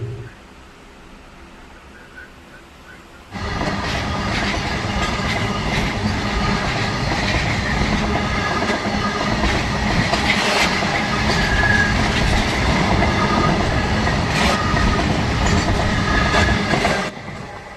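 A passenger train rumbles into Kannur South railway station loudly after a quieter start, with steady rolling wheel noise, rattling carriages and occasional squeals continuing throughout.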